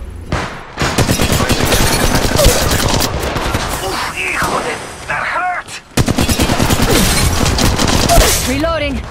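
Rapid automatic gunfire in the mobile shooter Apex Legends Mobile, dense bursts of shots rattling almost nonstop, briefly pausing near the middle, with game voices and effects under the firing.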